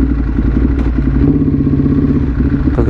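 Motorcycles at a motorcycle and scooter meet, including a Yamaha R1M and a Ducati Hypermotard, with a steady, loud, close engine rumble and idling throb throughout, plus some clatter.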